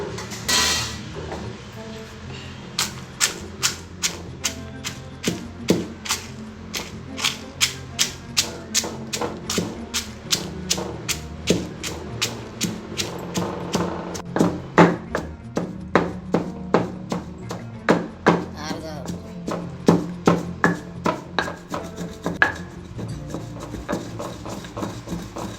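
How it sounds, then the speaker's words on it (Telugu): Fried dried red chillies are pounded in a stone mortar, giving a long run of sharp, evenly spaced knocks that speed into a brisk, steady rhythm and stay close and fairly loud throughout. "రోట్లో ఫ్రై చేసుకున్న ఎండుమిరపకాయలు వేసి నూరుకోవాలి."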